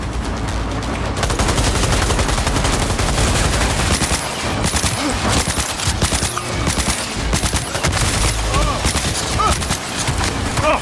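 Sustained gunfire in a Cyberpunk 2077 firefight: loud, rapid bursts of automatic weapons crackle continuously amid dense combat noise, with voices shouting over the shooting.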